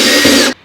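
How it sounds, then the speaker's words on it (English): A power drill fitted with a 5/64 inch bit drills pilot holes for a subwoofer box in a 2022+ Toyota Tundra CrewMax, giving one loud, close, continuous whir that stops abruptly after about half a second. "Now that I have my holes all drilled,"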